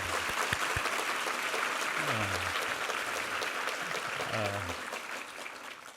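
A Sunday worship congregation in a church claps together, a full, sustained round of applause that slowly fades toward the end, with a voice speaking over it partway through.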